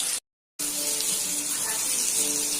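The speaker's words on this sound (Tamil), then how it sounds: "இப்போ பொரிச்சு எடுத்துக்கலாம்." Masala-coated Indian mackerel frying in hot oil gives a steady, loud, hissing sizzle that starts after a short silent gap and then runs on without a break.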